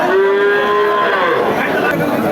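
A calf at a cattle market moos loudly and close, one long drawn-out call that holds steady and then bends downward, with faint crowd chatter behind it.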